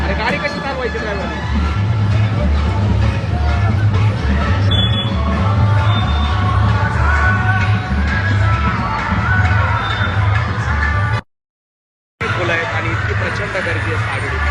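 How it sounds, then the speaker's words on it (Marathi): A large, noisy crowd welcoming Maratha activist Manoj Jarange Patil at a rally in Savedi, with loud continuous hubbub, cheering and vehicle engine rumble close by, plus a brief dropout. "प्रचंड गर्दी आहे सागडीमध्ये"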